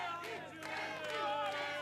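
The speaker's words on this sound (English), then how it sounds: "Second place to Kevin Pauwels, big cheer for him." A crowd at a cyclo-cross World Cup race in Koksijde, Belgium cheers for Kevin Pauwels, a loud, sustained roar of voices and whistles from a distance, with a commentator talking over it.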